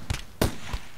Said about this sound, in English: That shotgun is pretty devastating. And it's noise.